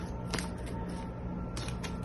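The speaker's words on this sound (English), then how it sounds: "I just finished shuffling all of these, but I'll shuffle again" A deck of cards is shuffled at close range, making a dense, continuous papery riffle with a few sharper bursts of flicking cards and no voices.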